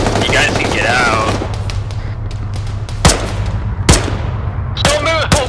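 Gunfire in ArmA 3 SOG, heard as loud sharp cracks and bursts scattered among distant rattling shots, with radio-like voices talking over the firefight.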